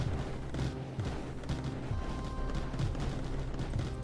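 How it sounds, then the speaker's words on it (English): Homing missiles fire repeatedly in the factory strategy game Mindustry, a dense barrage of rapid booming launches and blasts over a steady mechanical hum. "shooting out all of my homing missiles"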